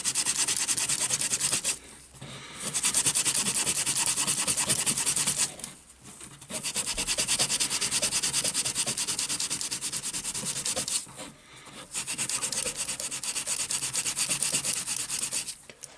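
Steady rasping scrape of a tool raking carbon off an engine valve of a Reliant 850 trike, continuous strokes broken by three short pauses, close and fairly loud with no talking.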